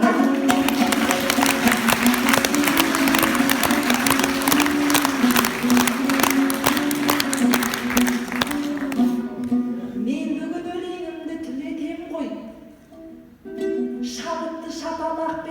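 Dense, sustained applause from an audience at an aitys, a Kazakh improvised poetry contest, clapping under a droning accompaniment that thins out and fades near the end, with a brief murmur of voices.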